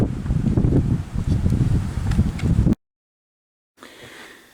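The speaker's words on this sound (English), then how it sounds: "it's gone from a bright sunny day to suddenly stormy and windy" Strong stormy wind gusts and buffets outdoors during a sudden thunderstorm, loud and rushing with rustling, then cuts to silence before fainter wind returns.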